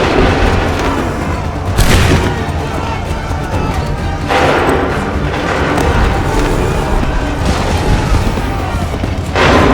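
Cannon and musket volleys boom in a battle in the Assassin's Creed 3 video game, with a few sharp blasts rising over a busy backdrop of running, hooves and shouted commands.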